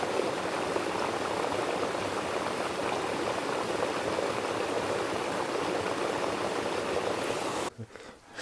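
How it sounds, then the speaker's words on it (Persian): Water flows steadily through a qanat in South Khorasan, Iran, a dense continuous rushing close by that cuts off abruptly near the end. "صدای آب"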